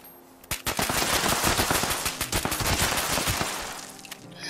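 Rapid automatic gunfire from a Fallout 76 firefight, loud and dense bursts of shots rattling continuously for several seconds with no talking.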